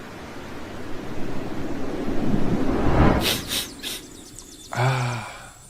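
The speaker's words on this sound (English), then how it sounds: "activate ocean sound" A Mercedes-Benz EQE SUV cabin plays its ocean sound program: a soft, steady surf-like wash of broadband noise swelling and receding, with brief bright chirps and a short tonal flourish near the end.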